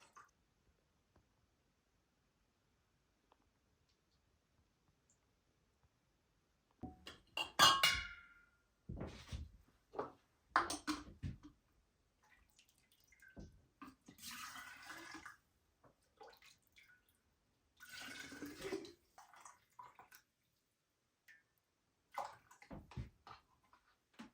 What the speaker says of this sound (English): That's probably good to start jarring up the broth.